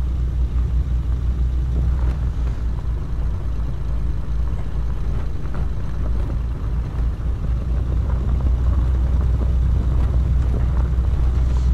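A car driving in the video game Arma 3, a steady low engine rumble with wind-like road noise that holds at an even level throughout, no voices.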